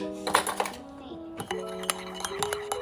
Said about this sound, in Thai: แล้วก็เอาช้อนมาคนก่อนเนาะ